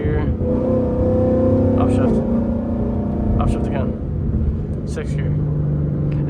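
A car with an automatic gearbox and paddle shifters, its engine revving and blipping as it downshifts through the gears, with a steady drone and several short shifts, while someone talks over it.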